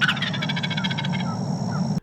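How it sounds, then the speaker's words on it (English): A male Osceola turkey gobbles once in a spring woodland: a loud, close, rattling burst of rapid pulses that trails off, heard alone over a steady low background hum. "We hunt these turkeys during the mating season in the spring when the male turkeys gobble"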